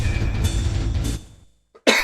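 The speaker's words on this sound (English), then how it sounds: "Still dealing with a bit of a nagging cough." A single sharp cough bursts out near the end, after a stretch of background talk and game sound from a wrestling video game session dies away into near silence.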